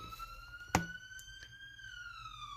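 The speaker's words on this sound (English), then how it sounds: "God, those police cars are annoying." Police car sirens wail outside, a single long rising and falling tone behind a quiet room, with a sharp knock partway through.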